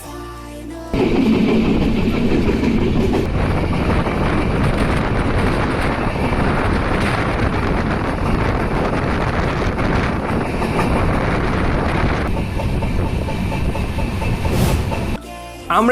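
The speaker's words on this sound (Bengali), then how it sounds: "আর আমাদের ট্রেনটি ছেড়ে দিয়েছে গন্তব্যের উদ্দেশ্যে" A passenger train runs steadily on a journey from Natore to Dhaka, its loud, continuous rumble and wheel clatter mixed with wind noise, constant throughout with no talking.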